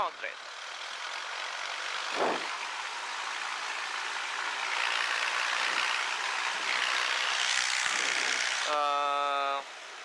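A propeller aircraft engine runs up at 1700 rpm in a loud, even drone that holds for about nine seconds, then a short tonal beep sounds as it ends.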